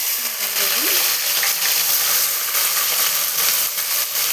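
Onions fry in hot oil with a loud, steady, close sizzle that crackles evenly throughout, with no pauses.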